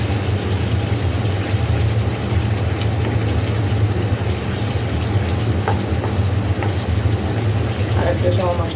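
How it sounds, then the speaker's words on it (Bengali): Spice paste being fried in hot oil while cooking okra bhaji, a steady dense sizzle with a low hum underneath, continuous and fairly loud throughout, with faint scraping of stirring. "আর একটু সময় মশলাটা কষিয়ে নেই।"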